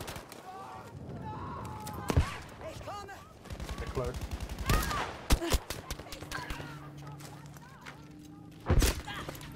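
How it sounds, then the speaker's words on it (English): MG42 machine gun bursts in Battlefield V, rapid crackling volleys and sharp gunshot cracks mixed with thumps and impacts, some loud and close, others more distant, with a voice talking in between. "MG42 from behind."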